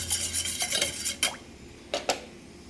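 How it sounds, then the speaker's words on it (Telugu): Cut brinjal pieces drop into a bowl of salt water with soft splashes, rustles and a few light clinks, close and fairly quiet with no talking. "ఈ వంకాయని ముక్కలు చేసుకుందాం ఇలాగ ఉప్పు నీళ్ళలో వేయాలి"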